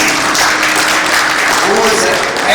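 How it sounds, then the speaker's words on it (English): Audience applause at an inaugural ceremony for the International Day for Women in Maritime, dense continuous clapping from a crowd, loud and close, with a voice faintly mixed in. "A nice applause in that."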